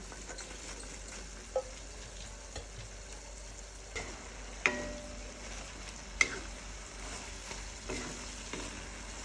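Minced pork and winged beans stir-fried together in a pan for a red curry stir-fry, a quiet steady sizzle broken by a few sharp clicks and scrapes of the spatula, with no voices.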